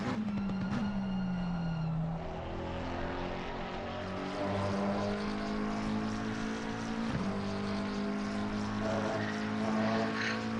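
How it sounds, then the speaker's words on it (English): GT race cars at Spa in Assetto Corsa Competizione, a McLaren and an Aston Martin battling, give a steady droning engine roar with shifting pitch, one gear change early, loud and unbroken without voices. "Dark Knight in the McLaren and Turbachuk in the Aston Martin, fighting it out, duking it out on track."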